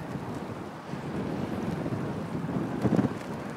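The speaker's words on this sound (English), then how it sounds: "Oh, it was windy." Wind gusting across a fishing pier on the Choptank River in Maryland, a steady low rumbling buffet against the microphone with faint water movement and a brief stronger gust near the end.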